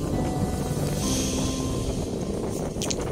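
Strong wind buffets the microphone in a continuous loud roar, with no voices present.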